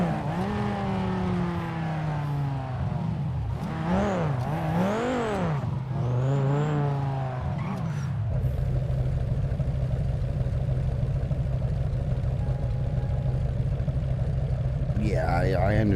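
Loud video game car engine revving through several sharp rising and falling sweeps, then settling into a steady heavy drone, with a person talking over it.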